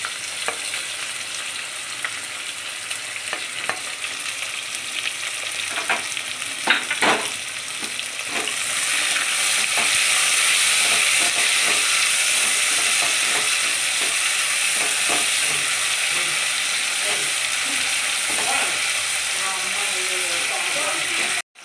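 Thinly sliced onions fry and sizzle in a pan for a mixed-grain biryani. A steady hiss swells louder partway through, with a spoon or spatula scraping and clicking against the pan at irregular moments and no talk.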